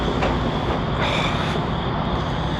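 A train rumbles steadily over a small, very loud railway bridge beside a nighttime campsite, a dense continuous roar with faint rhythmic clatter and no pauses, close and loud throughout.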